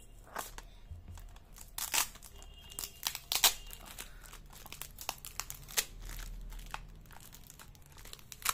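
A gift package is torn open and unwrapped by hand, with close crinkling and crumpling of plastic or paper, rustling in irregular bursts and a few louder tears, quiet overall with no talk.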